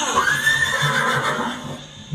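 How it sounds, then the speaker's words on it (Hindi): Chetak, Maharana Pratap's horse, gives a loud, drawn-out whinny that rises and wavers for about two seconds over a steady low accompaniment, with no talk alongside. "और चेतक हिनाया"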